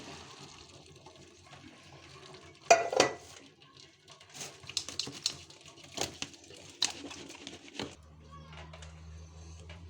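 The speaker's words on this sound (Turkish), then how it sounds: "Baklalarımızı şu anda süzelim şu şekilde." Water splashes and drains in a gush as cooked broad beans are poured into a colander, with metal pot and colander clatter and a few sharp clanks, ending in a low steady hum.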